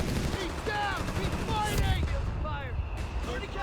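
Rapid machine-gun bursts and mortar blasts from a Company of Heroes 3 battle between Wehrmacht and US forces, dense and continuous, with a commentator's voice talking over the gunfire throughout.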